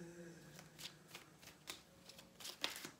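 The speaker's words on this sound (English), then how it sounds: "So I'm going to shuffle here and get one card" Soft, quick riffling bursts of tarot cards being shuffled close by, repeating in irregular flutters at low volume.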